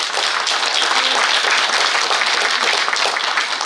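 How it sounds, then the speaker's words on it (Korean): An audience at a unification workshop breaks into dense, continuous applause, a loud and even wash of many hands clapping with no pauses throughout. "박수 한번 부탁드리겠습니다."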